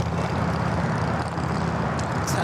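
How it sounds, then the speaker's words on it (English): All Nippon Airways Dreamliner arriving at Los Angeles International Airport from Tokyo Haneda, a short steady engine drone at moderate distance with a low tonal hum, no talk. "All Nippon Dreamliner, coming in from Tokyo Haneda"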